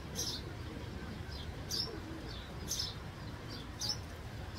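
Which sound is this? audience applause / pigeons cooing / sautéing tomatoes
pigeons cooing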